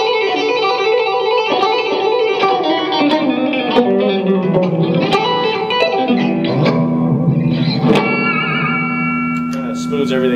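Electric guitar played through a compressor effects pedal in an effects pedal clinic, with an even, sustained string of single notes and bends, smooth and loud, and no talking.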